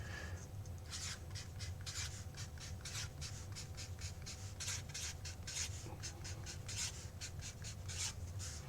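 Pen or marker scratching out a number in a lecture, a quick series of short strokes and taps in a steady rhythm, close and fairly quiet over faint room hum.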